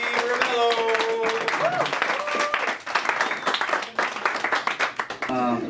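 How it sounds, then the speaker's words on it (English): A crowd at a live band show claps their hands in a dense, sustained patter, with someone talking loudly over it on a microphone. "Ladies and gentlemen, clap your hands."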